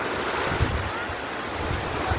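Ocean surf washes steadily onto a beach in Alicia, Bohol, a continuous close rushing of waves mixed with gusty wind buffeting the microphone.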